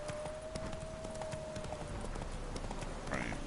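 Hooves of Roach, a horse in The Witcher 3 video game, clip-clopping steadily at a walk or trot through the whole stretch over a busy game ambience, with a brief bright chime near the end.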